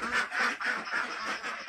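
Pekin ducks quack in a pen on a farm, a steady run of loud overlapping calls from several birds close by with no talk.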